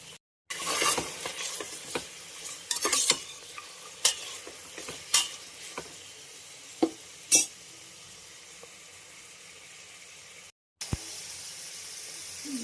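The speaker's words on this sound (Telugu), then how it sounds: "ముందుగా బఠానీ వేసుకుంటా." Peas fry in oil for vegetable pulao, with a soft steady sizzle broken by repeated sharp clinks and scrapes of a spoon stirring in the pan, close and clear.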